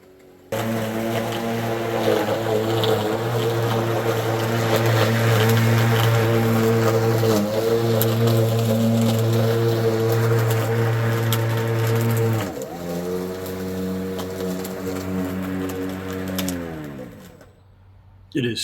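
A Badger 40-volt electric lawn mower cuts thick grass, its motor giving a loud, steady whirring hum whose pitch dips noticeably partway through, before winding down near the end.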